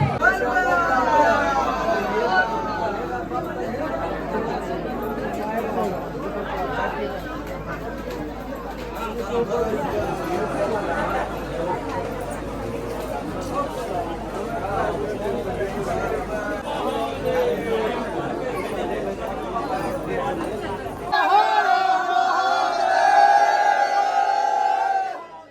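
Dense crowd chatter from a long queue at Basukinath temple, a steady babble of many voices close around, swelling louder near the end.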